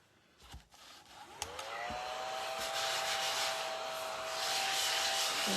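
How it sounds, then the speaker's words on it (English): A small ladybug-shaped handheld vacuum switches on with a click and rises to a steady high whine with a hissing suction rush, close and continuous. "Ladybug vacuum cleaner."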